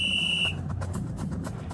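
A referee's whistle blows in a football broadcast, a single loud, steady shrill tone lasting about half a second before cutting off, followed by quieter rustling noise.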